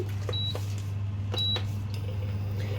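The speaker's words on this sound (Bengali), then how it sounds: "প্রথমে ইন্ডাকশানটা চালিয়ে নিলাম," An induction cooktop gives two short electronic beeps as it is switched on, over a steady low hum in a quiet kitchen.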